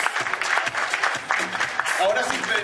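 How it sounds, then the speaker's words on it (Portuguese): An event audience applauds in a welcome at the start of an evening gathering, a steady moderately loud patter of clapping with voices and talk mixed over it. "Marcos, ¿le aplaudimos a Marcos?"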